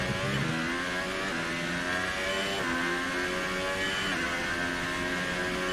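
Race car engine from the F1 2018 video game at the Australian GP, a steady high-pitched whine that rises and falls with gear shifts and revs, loud and continuous with no talking.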